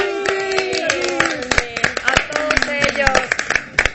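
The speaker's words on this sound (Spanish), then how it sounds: "un abrazo y un aplauso para los papás" Scattered hand claps from a small group, sharp and uneven, mixed with talking and a voice, a short round of applause for fathers during a family show segment.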